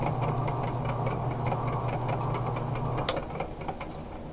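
A Barnes lathe runs under motor power with a steady mechanical whir and a low hum that drops off near the end, accompanied by faint rhythmic clicking, close and continuous.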